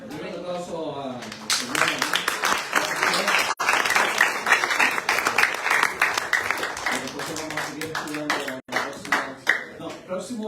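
A church congregation applauds at the close of a service, with bursts of hand clapping mixed with voices speaking over it and some crowd noise, rising and falling in waves throughout.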